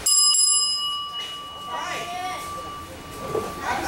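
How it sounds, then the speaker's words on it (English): A wrestling ring bell rings sharply at a live wrestling event, its bright ringing tone sustained for about a second before fading into crowd noise and a voice talking. "Ring the bell."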